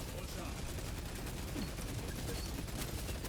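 A volley of gunfire in a multiplayer shooter video game, a dense, continuous rattle of rapid shots running the whole stretch, loud and busy with overlapping bursts.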